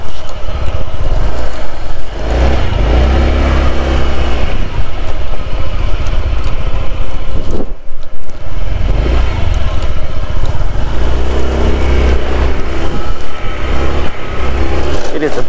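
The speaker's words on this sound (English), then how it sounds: "I'm riding my 2021 Honda" Engine of a 2021 Honda PCX scooter being ridden on a street in Kobe, Japan, a steady loud drone with wind rumble throughout, briefly dipping near the middle, with no talk over it.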